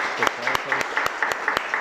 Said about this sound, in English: And we can give an applause.